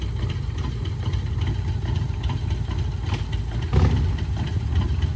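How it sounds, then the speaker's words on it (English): A 1994 motorcycle idling steadily nearby, a loud, even low-pitched engine rumble with a slight rhythmic throb and one brief louder clatter partway through. "Listen to Kim's bike idle."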